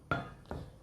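A metal lid lifted off a cooking pot of steamed hilsa, two short clinks about half a second apart, close and fairly quiet with no talk.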